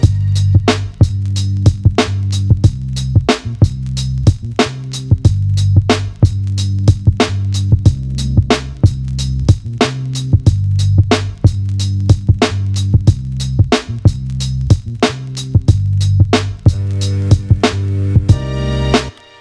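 A hip-hop beat programmed on an Elektron Digitakt drum machine plays steadily, with punchy kicks and snares in a regular loop over a heavy low bass line, loud and close, no voices.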